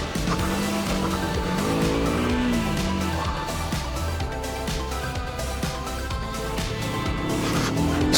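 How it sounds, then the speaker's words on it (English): KTM 125 Duke motorcycle ridden in Cornwall, a loud, close engine note revving up and down through the gears, steady and continuous with no talk. "This is my other half's little 125 KTM."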